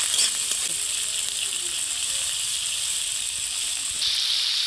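Potatoes sizzle in hot oil for a Bengali gima shak dish, with a loud, steady hiss that holds close and continuous throughout.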